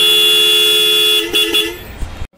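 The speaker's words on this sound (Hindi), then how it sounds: "तो हॉर्न की एक बार आवाज़ सुन लो।" A loud, sustained Uno Minda motorcycle horn on a Hero Splendor blares close by, followed by a couple of short honks before cutting off abruptly.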